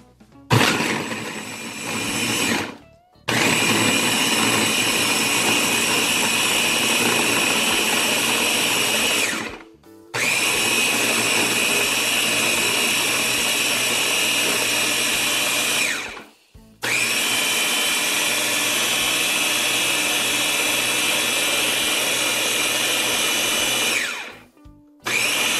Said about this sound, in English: The Ninja Prep blender.